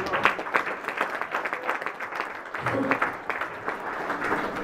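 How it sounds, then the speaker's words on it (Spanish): A church congregation applauding during a sermon, a few seconds of steady, moderately loud clapping from a crowd. "Dale un aplauso a Dios."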